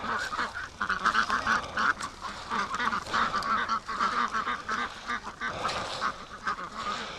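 A flock of free-range ducks quacks and honks continuously and loudly during their morning rush, a dense overlapping chorus of many birds close by.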